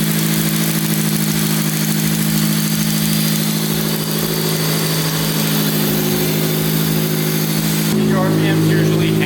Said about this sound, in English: RPMs usually hang and then drop down once they've warmed up.